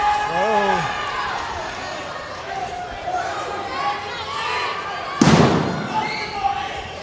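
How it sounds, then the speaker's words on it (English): A steel chair cracks once against a wrestler's head at a live pro wrestling show, a sharp loud impact standing out over a noisy crowd and ringside commentary. "Blake with a steel chair. Oh, drills Carter in the head with it."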